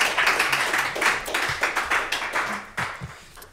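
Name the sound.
audience applause for speaker Guillaume Peigné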